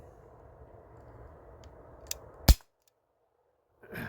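A single sharp crack from an Umarex Glock 19 CO2 BB pistol fired over a chronograph, a short click just before it, then near silence and a brief rustle.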